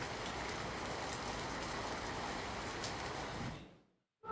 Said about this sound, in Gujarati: નવસારી શહેરના જુદા જુદા વિસ્તારોમાં વરસાદ ખાબક્યો છે